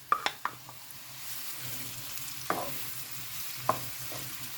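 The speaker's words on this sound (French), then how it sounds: "On met les champignons, l'huile est chaude." Mushrooms drop into hot oil in a pan and fry with a steady soft sizzle, marked by a few sharp clicks and taps of a utensil, close and quiet, with no speech.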